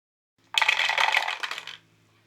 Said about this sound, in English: let's actually test it out with some dice